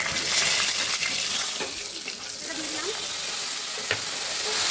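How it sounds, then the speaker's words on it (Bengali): Tempering spices dropped into hot oil with a little sugar for chhanar aloo dum, a loud continuous crackling sizzle with a few sharp clinks, no voices. "এবার আমি এই ফোড়নটা দিয়ে দিচ্ছি যা যা নিয়েছিলাম।"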